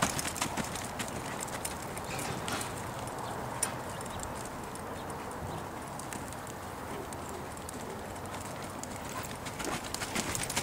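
A horse canters in western dressage work, with a rhythmic stream of hoof clip-clops on soft ground across a wide outdoor arena and occasional faint background sounds.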